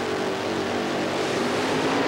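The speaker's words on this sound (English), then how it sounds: "The revs come up as they take a look at the lights." Loud, dense engine roar from 1989 NHRA drag racing cars revving hard at the start lights, steady and close throughout with no pause.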